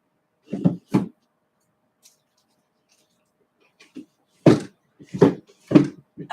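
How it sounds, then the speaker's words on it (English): A wooden drawer being shoved and knocked shut, giving a few sharp bangs and thumps with pauses in between, close by in a quiet room. "Oh, and that drawer is never going to go back in."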